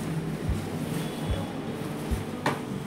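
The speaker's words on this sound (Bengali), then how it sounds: "এত বৃষ্টি হচ্ছে।" Heavy rain with gusting wind, a dense continuous hiss and roar that stays at an even level throughout, broken by a few dull low thumps of wind buffeting.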